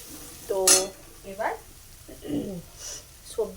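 Spices cooking in a pan are stirred with a utensil, making a few metallic clinks and scrapes over a faint sizzle, with a voice speaking intermittently.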